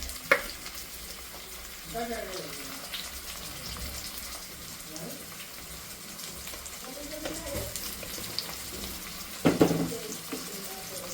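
Tomatoes fry in ginger-garlic paste for a Marathi sprouted moth bean curry, a continuous moderate sizzle with a few sharper clatters and a faint voice murmuring in the background.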